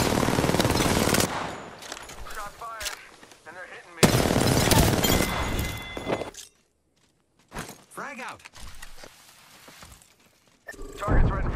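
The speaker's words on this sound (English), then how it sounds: "We just taking fire." Rapid automatic gunfire from a video game shooter played on a PS4 Pro, loud bursts with a long opening burst, another around the middle, then brief quieter pops with a player talking in between.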